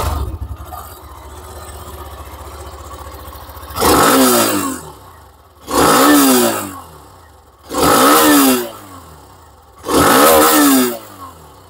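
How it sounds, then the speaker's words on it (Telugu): A Hero Xtreme 125R motorcycle's 125cc engine idles with a low rumble, then revs four times in evenly spaced, loud throttle blips, each falling back to idle. "సో ఇది ఈ బైక్ యొక్క ఎగ్జాస్ట్ నోట్"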